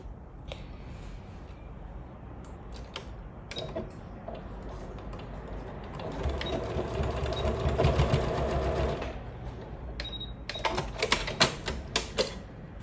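A sewing machine stitches a quilted cover in rapid mechanical ticking that grows busier toward the middle, with scattered clicks and handling noises around it.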